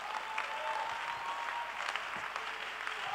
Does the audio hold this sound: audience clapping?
yes